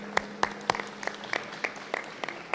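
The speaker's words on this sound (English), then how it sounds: "Please join me in giving a big round of applause to Alexander Avshalomov." Sparse, quiet applause at a telemedicine conference, a handful of distinct hand claps at an uneven rhythm rather than a full crowd, fairly distant.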